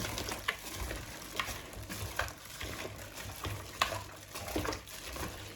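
A spoon stirs and mixes seasoning for oxtail, giving a series of soft scraping, clinking strokes at a steady rhythm over a low background hum, close and moderately quiet, with no talking.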